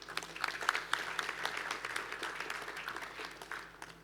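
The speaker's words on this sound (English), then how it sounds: "Let's give them both a round of applause before we announce the winner." Applause from an audience at a rice industry awards conference: a steady wash of many hands clapping, moderately loud, with a few sharper individual claps standing out over the crowd.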